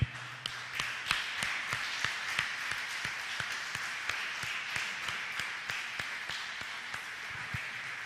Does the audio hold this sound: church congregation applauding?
yes